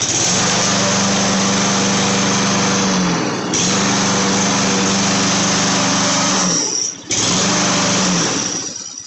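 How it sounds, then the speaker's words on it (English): A walk-behind lawn mower engine, just repaired with a new ignition coil, running loud and steady with a high buzzing drone, dipping briefly twice before picking back up. "we should be able to test this mower"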